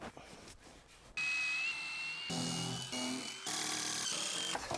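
A power drill drives 2.5 inch screws into wood while building an off-road camper. The motor whines in loud, sustained bursts with brief pauses between them, close and with no talk over it.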